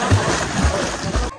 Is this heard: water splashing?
yes